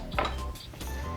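Raw barbecue chicken set down on a metal pan or tray, giving a short clattering knock of metal followed by a lighter rattle, close and moderately quiet.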